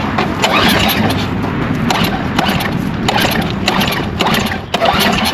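A small carbureted engine that needs repriming is cranked again and again without catching at first, giving loud, near, rhythmic pull-and-sputter bursts that repeat throughout.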